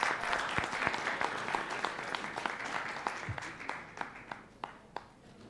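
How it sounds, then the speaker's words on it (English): A conference audience gives a round of applause as a guest is welcomed to the stage, dense clapping that gradually thins out, with individual sharp claps becoming more distinct toward the end. "please give a round of applause and welcome her to the stage"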